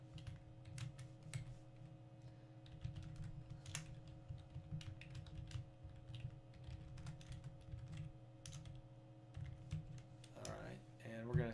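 Light clicks of a computer keyboard while code is written, fairly quiet keystrokes in irregular bursts over a steady low electrical hum, with a louder shuffle near the end.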